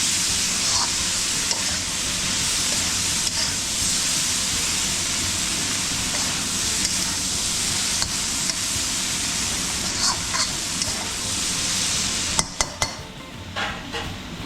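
Mixed winter vegetables for a Bhogi festival dish sauté and sizzle in a pan, with a steady frying hiss throughout and scattered utensil scrapes and clinks of stirring, louder toward the end.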